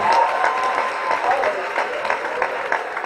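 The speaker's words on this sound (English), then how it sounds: "So huge round of applause, guys." A crowd applauds steadily at a Swatch Bharat campaign event with Tiger Shroff, Jacqueline and Nathan Jones, with a dense wash of clapping and some voices mixed in.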